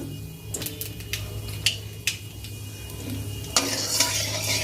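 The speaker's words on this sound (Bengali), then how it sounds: "এই যে কড়াইতে দিয়ে দেবো এবারে হচ্ছে কালো জিরে ফোড়ন" Nigella seeds and cut vegetables hit a hot wok for tempering, giving a steady low sizzle under sharp scrapes and clinks of a metal spoon stirring against the pan, close and moderately loud.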